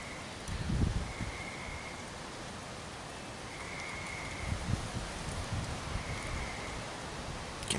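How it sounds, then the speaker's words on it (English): Wind stirs the forest leaves in a soft, steady rustle, with a few louder gusts and bumps up close and faint rhythmic chirping of tree frogs behind, no voices. "The wind is starting to kick up something fierce."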